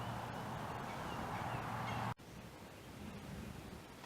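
Five new baby chicks on a garden homestead cheep softly under a constant hiss of background noise, with a brief dropout midway.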